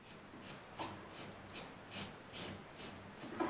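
A Dorco Pace 7 multi-blade razor scrapes across stubble in repeated short strokes, a soft rhythmic rasping that comes roughly every half second, close and fairly quiet with no voices.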